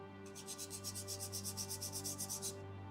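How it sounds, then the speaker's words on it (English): A drawing tool is rubbed back and forth on sandpaper to sharpen its edge, about fifteen quick, even rasping strokes in a steady rhythm, close and soft over a faint background hum. "run it on this sandpaper right here a little bit to kind of get that uber sharp edge"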